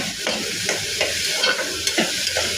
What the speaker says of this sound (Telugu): ఉల్లిపాయ పచ్చిమిరపకాయ వేసుకోవాలి. ఇది కొద్దిగా దోరగా వేగనివ్వాలి.